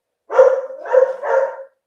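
A dog, a female pet at home, gives three quick, loud barks close by, each burst sharp and separated by brief gaps, with no voices over them.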